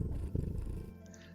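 A pet cat named Augustus purring in the video game Cabernet: a steady, soft low rumble lasting just over a second, with no talk over it.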